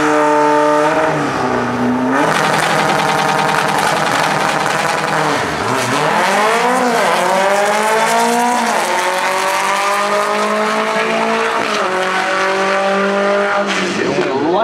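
A Super Pro drag racing car roars through a run at a drag strip event, its loud, close engine note climbing in pitch through repeated gear shifts and sustaining a powerful, harmonic-rich howl for the whole stretch.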